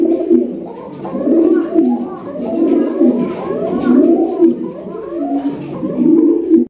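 Domestic pigeons kept for sale coo in a repeated, throaty rolling rhythm. The birds are close and moderately loud, with several overlapping calls and no talking.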